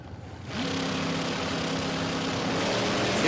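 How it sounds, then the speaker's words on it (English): A front-engine dragster at a drag racing event at Willowbank Raceway, its engine surging from a low idle into a loud, sustained roar that swells steadily toward the end. "Brett Varnell to leave first in that front engine dragster"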